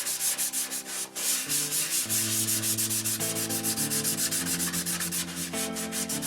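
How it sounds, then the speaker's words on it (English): A surface is sanded by hand in steady, rapid back-and-forth rubbing strokes, close and continuous with no voices. "You'll notice when I sand, all the dark spots go away evenly"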